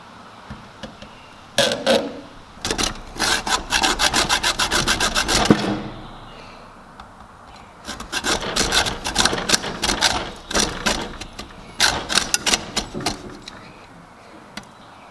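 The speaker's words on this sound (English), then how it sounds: "So we're gonna cut it with the hacksaw and try a flat blade on it. And we will start cutting." Hacksaw cutting a stripped screw on a YZ250 dirt bike, close-up rhythmic back-and-forth rasping strokes in two long bursts separated by a short pause.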